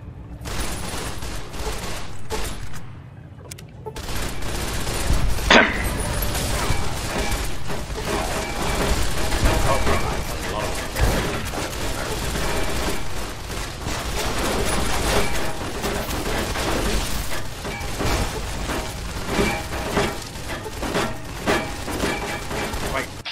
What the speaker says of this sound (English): Explosion hit the security guys as well.